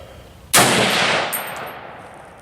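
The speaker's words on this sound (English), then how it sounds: "I'm going to shoot these in the middle, the first 5." A single loud .243 handload rifle shot from an M1A or Remington 700 ADL cracks close by, followed by a long ringing decay.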